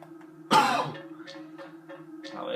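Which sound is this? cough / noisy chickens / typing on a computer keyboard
cough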